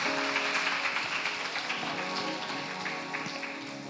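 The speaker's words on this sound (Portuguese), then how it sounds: "Você pode aplaudir a Ele" A church congregation at a Sunday worship service applauds, many hands producing a dense, continuous patter like heavy rain. The applause fades gradually toward the end.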